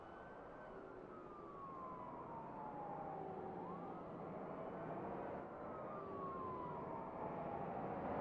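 A police car siren wails in the BeamNG driving game, its rising and falling tones sweeping repeatedly over a steady engine rumble during a chase.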